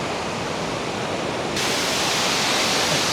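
Sevgi (Love) Waterfall in Sapa, Vietnam, a dense, even roar of falling water that fills the whole clip and swells louder halfway through, with no voices.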